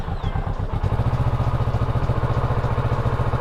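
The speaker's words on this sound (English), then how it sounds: "do a cold start on this stock exhaust, stock Ninja 650" A stock Kawasaki Ninja 650 with its stock exhaust cold-starts and settles into a loud, close, rapid, even idle with a steady throbbing pulse.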